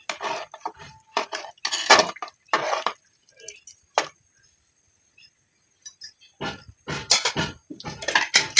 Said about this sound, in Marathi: चला आपण आता याला मिक्स करून घेऊ मस्तपैकी